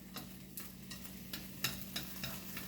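Meat frying in a pan for a stew, a steady low sizzle broken by irregular clicks and scrapes of stirring, heard up close.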